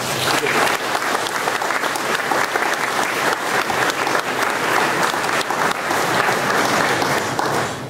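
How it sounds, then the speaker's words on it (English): Loud, sustained applause from a large audience welcoming a guest of honour to the opening of a new college campus building, a thick, continuous roar of clapping that stays strong for the whole stretch. "So if you would all join me in a round of applause."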